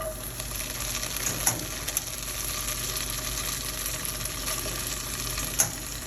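Beans sizzle gently in a pan of butter and olive oil over medium heat, a steady soft frying hiss with a few faint clinks of stirring.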